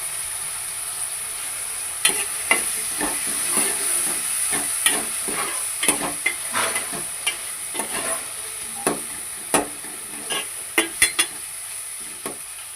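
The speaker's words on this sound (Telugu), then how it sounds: "ఇప్పుడు టమోటా వేసుకున్నాను. టమోటా కూడా మంచిగా స్మాష్ అయిపోవాలి." Tomatoes with turmeric frying in a pan for an okra and egg stew, a steady close sizzle broken by frequent scraping strokes of a stirring spoon.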